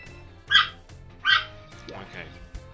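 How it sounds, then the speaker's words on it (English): In the game Pokemon Scarlet, a dog barks or yips twice in short, bright bursts, followed by a softer whimpering sound, over steady background game music. "stop barking"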